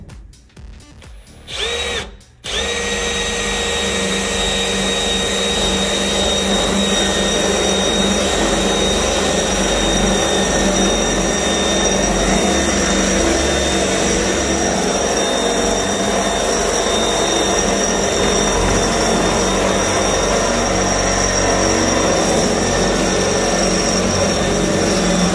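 A power drill fitted with a metal drill bit bores through a piece of metal. After a couple of brief stuttering starts, it settles into a loud, steady, high-pitched whine that runs unbroken for over twenty seconds.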